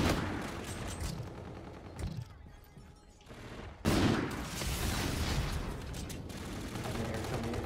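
Bursts of video game gunfire crackle through the first couple of seconds and again after a brief lull, a dense, loud, repeated rattle of shots and explosions.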